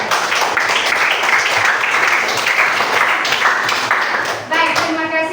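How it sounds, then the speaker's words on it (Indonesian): A group of people applauding a group's performance, dense steady clapping for several seconds before a voice begins speaking over the tail end. "Kita berikan dulu tepuk tangan untuk dia."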